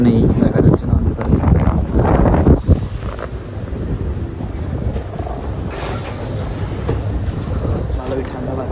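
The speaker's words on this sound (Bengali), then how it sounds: "ভালোই ঠান্ডা বাতাস।" Strong cold wind gusts steadily over the open deck of a river launch travelling from Dhaka to Monpura at night, blustering against the microphone with a low engine rumble beneath.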